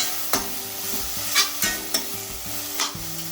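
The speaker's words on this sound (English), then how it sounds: "So go about adding the chopped curry leaf. Give it a good mix." Chopped curry leaves sizzle steadily in a hot pan while a spoon stirs them, giving several sharp scraping clicks at an irregular pace over the frying hiss, close by with no talking.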